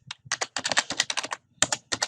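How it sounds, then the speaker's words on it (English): Rapid clicking keystrokes on a computer keyboard, close and crisp, in quick irregular bursts with a short pause midway. "I made a boo-boo with my typing"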